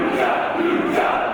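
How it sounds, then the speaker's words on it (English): A pro wrestling arena crowd at a tag team match chants and jeers steadily, a dense roar of many voices that fills the whole moment without a break. "The crowd are mocking this supposedly Mexican team."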